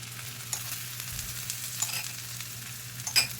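Sorghum-grain thalipeeth fries in oil on a griddle with a steady close sizzle, broken by a few soft taps and scrapes and no talking.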